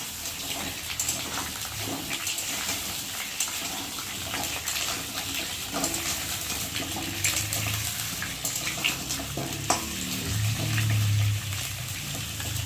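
Wet potato pieces spluttering and crackling steadily in hot oil, a dense continuous hiss with scattered sharp pops, fairly close, with no talking.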